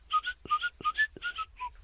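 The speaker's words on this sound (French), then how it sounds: "Je siffle souvent, sans bouger les lèvres." A person whistles a quick, bright melody of short chirpy notes without moving the lips, close and fairly soft, with faint clicks between phrases and no speech.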